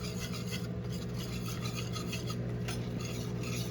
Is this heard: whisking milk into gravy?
yes